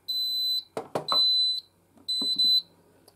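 Fire alarm panel from an Apollo XP95/Discovery system giving its fault warning after a heat detector is taken off its base: loud, steady high-pitched electronic tones in repeated bursts, broken by brief handling clicks and knocks.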